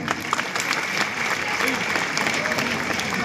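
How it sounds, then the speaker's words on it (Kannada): Sustained audience clapping at a comedy evening show in Nargund, with dense, steady applause from a crowd running through the whole stretch at a fairly loud level. "ಎಷ್ಟೋ ಜನ ಗಂಡಸರು ಕೂಡ ಚಪ್ಪಾಳೆ ತಟ್ಟಿಬಿಟ್ರು"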